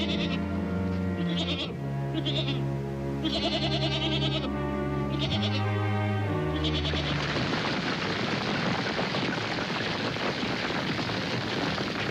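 Goats bleat in long, wavering calls for several seconds before a loud, steady rushing noise takes over.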